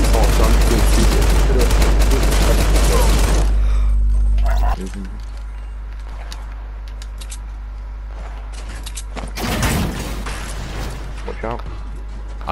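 Gunfire in the Fortnite battle royale game, loud bursts of shots in the first few seconds, then quieter game sounds with another burst near the end, while people talk over the action.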